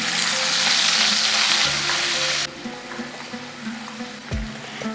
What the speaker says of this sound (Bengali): 30 সেকেন্ডের মতন আদাটাকে বেশ ভালো করে ভেজে নিয়েছি